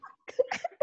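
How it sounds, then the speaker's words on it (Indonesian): A person gives a short series of brief, close coughs, a few quick bursts less than a second apart. "Aduh, aku batuk."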